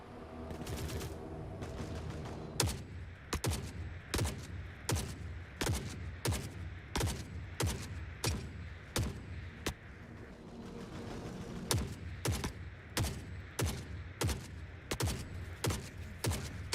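Gunfire and sniper shots in the shooter Forever Winter ring out as a long series of sharp, loud cracks at a steady, near-regular pace, with a brief lull midway before the shooting resumes.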